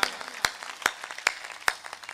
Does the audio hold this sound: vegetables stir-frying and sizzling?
no